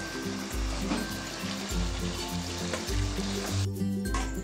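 Desi chicken with whole garlic simmers covered over a low flame, giving a steady close sizzle and bubbling with soft periodic thumps throughout, no voices.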